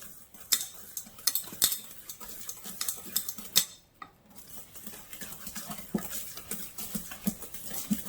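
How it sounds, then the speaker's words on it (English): A hand whisk beats sweet potato pound cake batter in a bowl, giving irregular light clinks and taps against the side over a soft stirring swish, fairly quiet with a short pause midway. "I'm going to use the whisk, and I'm going to whisk this"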